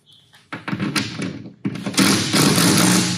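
A cordless drill set to clutch torque setting 2 on a K2 solar racking install whirs up, then ratchets with rapid clicking bursts, loud and close.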